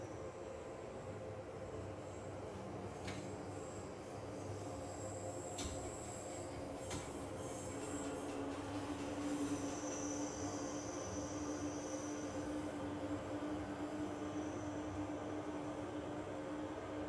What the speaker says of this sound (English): When it sounds like you're going deaf on an underground train,